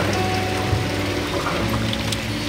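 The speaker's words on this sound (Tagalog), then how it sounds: "Lakas man ng ulan." Heavy rain pours down steadily outdoors, a dense, continuous wash of drops spreading evenly across the whole stretch, with no voices over it.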